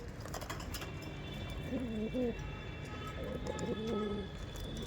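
Giribaj pigeons at a breeder's sale coo in two short, low rolling phrases, fairly faint against a steady background hum, with no clear speech.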